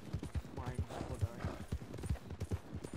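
Horse hooves clip-clop steadily at a quick, even rhythm in a Wild West video game, a close, continuous patter of footfalls running beneath talking voices.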